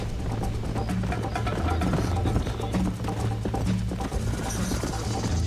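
Horses gallop during a race in the video game Red Dead Redemption, hooves pounding in a fast continuous rhythm, close and loud, with game background sounds beneath.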